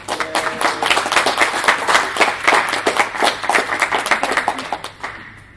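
A conference audience claps steadily for several seconds after a talk, dense and close, then trails off and fades to quiet at the end.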